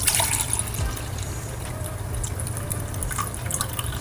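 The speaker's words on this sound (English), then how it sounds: "So let me pour like a cup in here." Water pours from a bottle into a kitchen container, a steady faint trickle with a few splashy drips over a low background hum.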